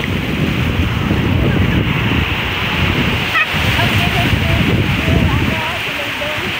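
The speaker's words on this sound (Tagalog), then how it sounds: "Ay, ang lakas ng hangin dito. Kaya ang lakas din ng alon." At a beach resort, gusty wind buffets the microphone and ocean waves wash in continuously, with voices talking over the steady roar.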